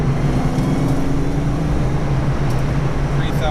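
A Foxbody Mustang 5.0 V8 on a full aftermarket exhaust drones steadily and loudly from inside the car around 2,500 rpm, a deep, even rumble under road noise with no talking.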